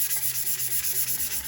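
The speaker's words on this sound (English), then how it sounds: "I'm using a sanding block and I'm just going to go all the way around and just make sure the entire surface is nice and scratched." A sanding block scuffs around a 20-ounce straight tumbler, giving a close, steady rasping rub in quick repeated strokes, roughly seven passes per second, with no talking.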